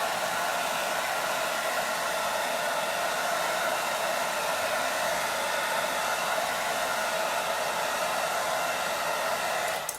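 A hair dryer blows steadily over a chalk-paste home decor craft project, a continuous close whooshing roar with a whining hum that holds level for the whole stretch before cutting off right at the end, with no talking.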